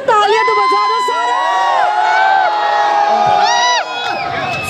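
A loud crowd cheers and shouts, with high excited voices and whoops rising over a dense roar throughout.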